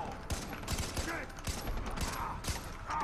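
Bursts of rapid gunfire from a weapon in the video game Far Cry 3 co-op, sharp repeated shots in a quick irregular rhythm, loud and close, mixed with game sounds.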